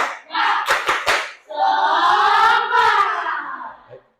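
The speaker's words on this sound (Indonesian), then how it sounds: "Oke, tepuk semangat." A classroom group of schoolchildren does a rhythmic spirit clap, a few sharp unison claps in quick succession followed by a loud collective shout from the group, close and energetic.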